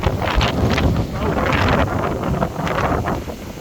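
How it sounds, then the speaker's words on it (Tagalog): Strong wind buffets the microphone outdoors in loud, gusting bursts with a roaring, rumbling texture, and a voice is faintly mixed in. "Grabe, ang lakas ng hangin."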